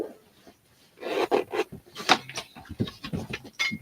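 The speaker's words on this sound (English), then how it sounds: "Try to show that the zippers work." Zippers on a Rossetti shoulder bag are pulled open and shut in a string of short raspy scrapes and rubs, close and fairly quiet, with small handling noises between pulls.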